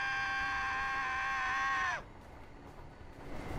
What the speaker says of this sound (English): And Homer is screaming.